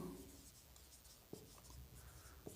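A maths proof written out by hand during a Class 11 induction lesson: faint, soft scratching strokes with a couple of small sharp taps, quiet and with no talking.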